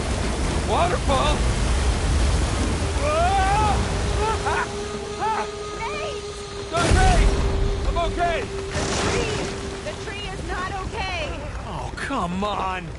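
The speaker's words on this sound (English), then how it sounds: "Waterfall. Waterfall." Rushing waterfall in the video game Uncharted 4, a continuous broad roar of water that fills the scene, with characters shouting and talking over it and brief louder bursts of action.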